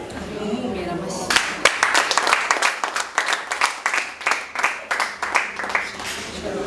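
Dense audience clapping at a wedding anniversary celebration breaks out after a brief stretch of voice and continues as a loud, steady burst of many hands, with individual claps pulsing through the roar.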